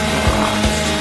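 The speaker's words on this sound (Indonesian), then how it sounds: "Tenang, aku membutuhkannya untuk memotong Twix." A saw cuts through a Twix chocolate bar with a loud, continuous rasping noise and low rhythmic strokes about every third of a second, close and alone.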